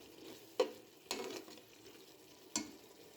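Garlic and ginger paste being mixed into mashed tomatoes in a hot pan, with three distinct spoon scrapes and knocks over a faint, steady sizzle, close and quiet.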